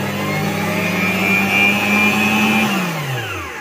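A 5-litre stand mixer motor whirs on its pulse setting, a steady close electric drone that holds its pitch for a few seconds, then winds down as the button is released.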